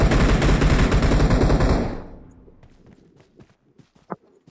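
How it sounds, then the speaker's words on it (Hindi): Rapid automatic gunfire in the mobile shooter BGMI (PUBG) rattles loudly for about two seconds and then cuts off, leaving faint scattered clicks and one sharp later shot. "मेरे पे गोली चल रही है, रुको।"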